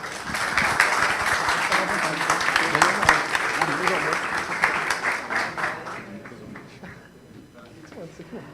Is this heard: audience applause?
yes